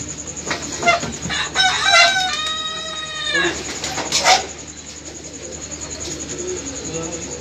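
Pigeons coo close by, including one long drawn-out call midway, while people talk around them.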